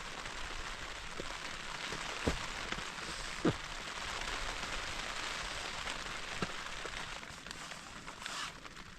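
Rain patters steadily on a tent fly during a solo wild camp in Snowdonia's Glyderau, a dense soft hiss broken by a few sharper, louder drops striking the fabric up close.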